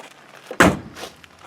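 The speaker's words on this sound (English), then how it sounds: "Door shuts like a brand new car." A single solid thunk of a 1966 Ford Mustang Fastback's door shutting, close and sharp, with a quiet room tone around it.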